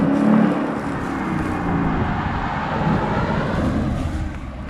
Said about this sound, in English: that exhaust sure does sound great, and that's that Valvetronics Army Tricks exhaust